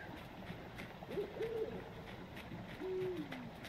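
An owl in the video game Endling: Extinction is Forever gives two hoots: a longer wavering call, then a second steady one a moment later. The calls are faint against a hushed night ambience.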